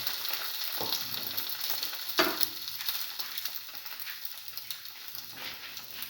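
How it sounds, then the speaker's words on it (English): A cinnamon egg-dipped sandwich fries in oil in a pan, giving a steady, close crackling sizzle with a few brief louder pops and no talking. "put it onto the pan in the oil"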